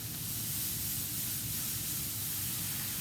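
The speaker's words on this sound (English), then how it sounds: "So I can hear that nice sizzle." Steady, dense sizzling of meat frying in a hot pan, a continuous crackling hiss with no voices, close and constant throughout.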